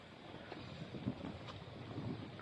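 Strong wind rushes and buffets the microphone in a steady, dense roar with faint gusty swells.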